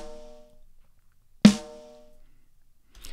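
A snare drum sample plays back on loop through a compressor plugin, with one sharp, loud hit that decays over about a second. Faint tonal ringing fades out before it and another soft hit begins at the end. No one speaks.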